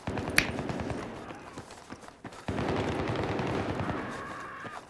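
Battlefield 3 gunfire in rapid bursts, mid-distance shots cracking against a busy game soundscape, with a sharp shot early and sustained firing later, while players talk over voice chat.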